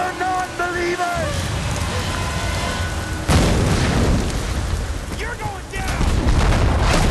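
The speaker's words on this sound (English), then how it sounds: "Explosion right in our face." Explosions in the video game Tomb Raider: Definitive Edition, a sustained roar of blasts and crackling debris with a heavy boom midway, loud and close, with brief talk and music underneath.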